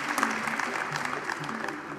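A graduation ceremony audience applauds the graduates with a soft, continuous patter of clapping heard from a distance in a large hall.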